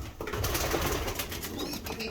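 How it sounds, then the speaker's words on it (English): Young pigeons a few days old are picked up and handled, giving soft coos and brief wing flutters amid close rustling, with no speech. "Let me just grab one and then I'll compare it with some of Cheeky's babies"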